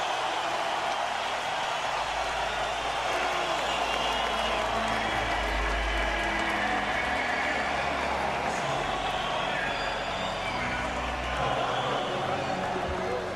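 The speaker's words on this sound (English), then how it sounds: "listen to this crowd" An arena crowd awaiting the Fedor Emelianenko versus Fabricio Werdum MMA fight roars and applauds in a dense, continuous wash of noise that stays loud and steady throughout.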